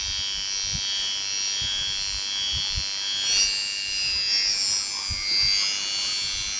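An odd-looking single coil tattoo machine, powered at 6.6 volts, is test-fired and gives a steady high-pitched electric buzz that runs continuously, close and moderately loud, with a slight waver in the middle and no talking.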